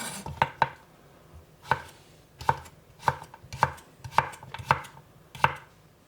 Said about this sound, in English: we just want to cut it up on an angle and cut it fairly thin